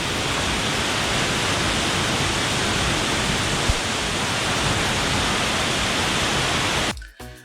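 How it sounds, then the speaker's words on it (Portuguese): A 76-metre waterfall at Poço Azul in the Chapada das Mesas, Brazil, roars as a loud, steady broadband rush of falling water that holds unbroken for about seven seconds and then cuts away abruptly. "Gente, são 76 metros de queda de água."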